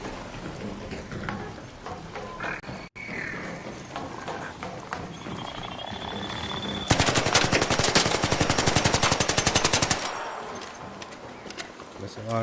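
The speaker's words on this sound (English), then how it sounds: "Missing a lot of shots on that." Rapid automatic gunfire from the video game Arc Raiders, a dense burst of loud shots lasting a few seconds amid other game sounds, with players talking over it.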